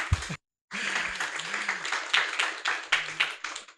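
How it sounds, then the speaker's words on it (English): Audience applause welcoming the panel speakers at a COP16 science-policy discussion session. It starts after a short silence and runs as a sustained, dense clapping from a sizable seated crowd, with a brief murmur of voices at the very start. "If we could all welcome our speakers with a applause, please."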